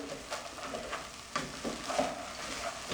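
Ingredients for a pork and hominy soup (sopa de morocho) are stirred in a pot, giving a faint, continuous sizzle with soft scraping swishes rising and falling.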